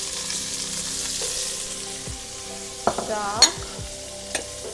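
Chopped onion goes into oil in a pan, giving a soft steady sizzle, with a few spoon knocks and scrapes against the pan near the end and one brief spoken word.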